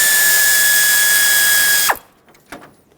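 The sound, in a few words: ratchet removing 8mm bolt on Nissan Pathfinder AC condenser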